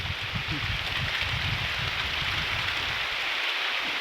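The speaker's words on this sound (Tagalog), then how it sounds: "Malakas na yung ulan." Heavy, wind-driven rain on a farm during a storm pours in a constant hiss, with soft low patters underneath, steady throughout.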